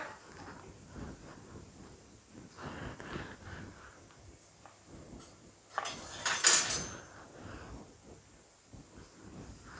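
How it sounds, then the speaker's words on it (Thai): A metal frying pan clinks on a stovetop over medium heat amid faint kitchen clatter, followed by a brief bright hiss and sizzle of oil being poured in; a voice speaks softly. "ตั้งกระทะใส่น้ำมันเลยค่ะ"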